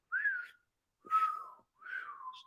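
Three short whistled phrases, each a wavering, breathy tone that trails off, separated by brief pauses; a clumsy, unsteady attempt at whistling, close and alone.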